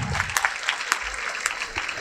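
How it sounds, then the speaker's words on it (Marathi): An audience at a school science exhibition applauds a student named Shivam, with scattered, fairly sparse claps close by and a few sharper individual hand strikes over a brief moment. "शिवमसाठी टाळ्या वाजवा जोरदार"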